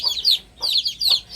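Chickens clucking nearby in a yard, several short bursts of clucks in quick succession, fairly loud with no talk over them.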